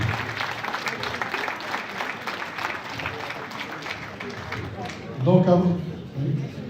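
Applause from a New Year concert audience in Hayange, moderate and steady for several seconds, with a voice rising over it near the end.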